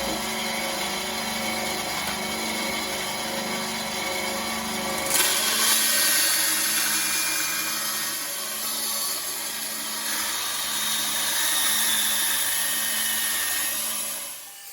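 A power saw cuts guitar side wood oversized in a workshop, a steady whining drone that shifts in pitch partway through and holds on without voices.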